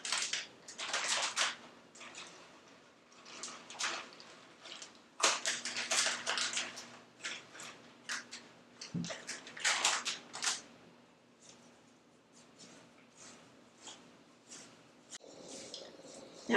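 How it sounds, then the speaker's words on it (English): Cheese is gently stirred into cornbread batter, giving soft wet squishes and scraping strokes in an irregular rhythm, close and quiet with no talk. "which we're going to gently stir in."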